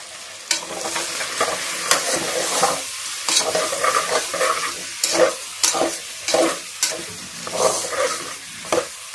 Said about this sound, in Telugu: ముందుగా కారం పొడి వేసి, ఉప్పు వేసి నీట్గా ఇట్లా చిల్లకి తీసుకొని కదిలించుకున్నామంటే ముక్కలు ఎర్రగా నీట్గా వస్తుంది